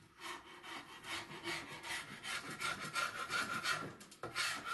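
Steady back-and-forth rasping of sanding metal lock panels on a flat plywood sanding board, close and quiet, repeating in a continuous rhythm with no talk.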